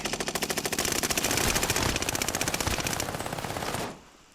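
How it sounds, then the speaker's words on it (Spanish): A video game machine gun fires a long sustained burst of rapid, evenly spaced shots, loud and close, then cuts off abruptly near the end. "Mala esa ametralladora, no me gusta."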